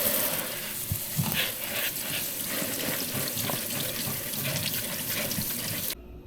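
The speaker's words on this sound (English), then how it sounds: "We'll put them in the drainer or the colander, and then we'll give them a rinse" Cut broccoli crowns are rinsed in a colander under a kitchen tap, with steady running water and irregular splashing and patter over the florets, close and continuous until the water stops abruptly at the end.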